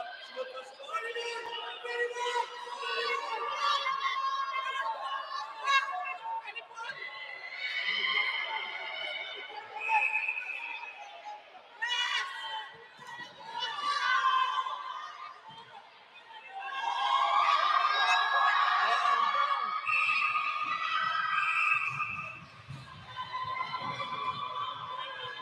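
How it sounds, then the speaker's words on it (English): Crowd at a men's netball championship tournament erupting in cheers, a long, loud mass of overlapping shouting voices rising and falling in waves for over twenty seconds, building to a peak near the end. "So the crowd erupted"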